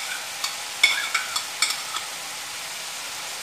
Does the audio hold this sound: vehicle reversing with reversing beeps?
no